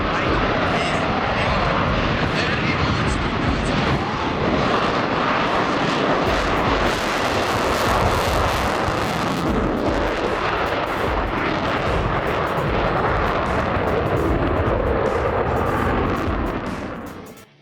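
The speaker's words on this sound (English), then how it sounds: "The roar of its Saturn Izdeliye 30 engines" Loud, sustained roar of a Russian Su-57 Felon stealth fighter jet with Saturn Izdeliye 30 engines, a dense, broad rumbling blast that holds steady for the whole stretch before dropping off abruptly at the end.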